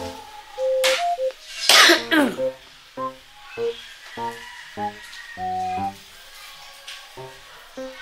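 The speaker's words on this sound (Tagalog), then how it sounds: "Hindi ko mapigil yung ubo ko." Someone coughs several times close up, short harsh bursts interspersed with brief vocal sounds and murmured voices.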